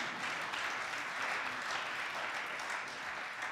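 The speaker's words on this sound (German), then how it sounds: "Applaus" Steady applause from an audience at a Green party (Bündnis 90/Die Grünen) candidate's campaign speech, a dense continuous clatter of clapping hands that holds evenly for the whole stretch with no voices over it.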